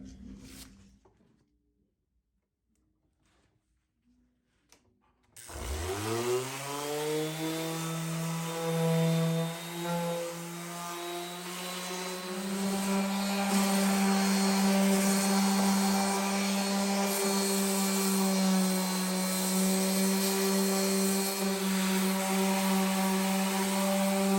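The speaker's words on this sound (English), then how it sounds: "And now it's time to sand." Wood being power sanded: after a few quiet seconds the motor spins up and settles into a loud, steady whine with a strong hum that runs on continuously to the end.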